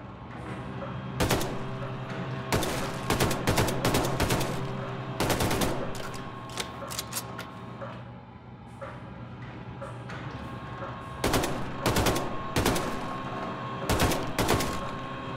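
Fully automatic weapon fired at a shooting range in Wolfenstein II, loud close bursts of rapid gunfire in several separate strings with short pauses between them.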